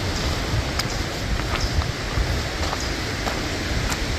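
Steady wind gusting along a hiking trail near dead trees, a broad rushing roar with soft rustling and a few faint ticks, close and continuous.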